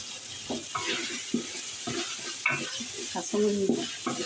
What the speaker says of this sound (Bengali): ভেজে নিচ্ছি যাতে কাঁচা গন্ধটা না থাকে